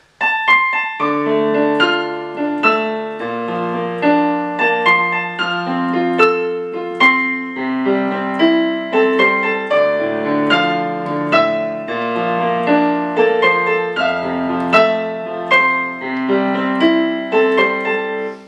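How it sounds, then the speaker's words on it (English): A solo piano plays a flowing melody over chords, notes ringing clearly with steady, even phrasing throughout and no voices. "It's a piano solo arrangement, so it's got the melody in the right hand."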